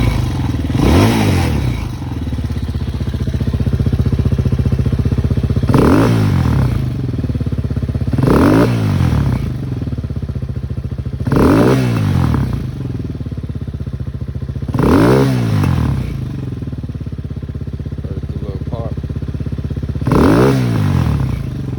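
Hawk 250cc motorcycle engine idling while warming up, a close, steady low rumble with a rough thumping idle and recurring swelling chugs every couple of seconds.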